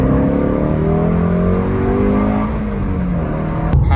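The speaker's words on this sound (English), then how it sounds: "Especially driving through the city, this car just sounds way too good." A Shelby GT350 V8 engine and exhaust while driving through a city, a loud close rumble with rising and falling engine tones as it accelerates, followed by a brief sharp knock near the end.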